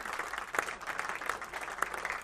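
A crowd at a club cricket match applauds a batsman reaching his century, steady moderate clapping throughout a short stretch, heard at some distance.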